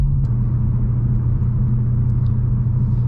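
BMW F30 335i cruising at highway speed, a steady loud low engine and road rumble that holds constant throughout with no voices.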